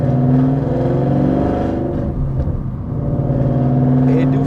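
A Mustang GT V8 with loud aftermarket headers rumbles and revs steadily as it pulls away, heard loud and close from inside the car.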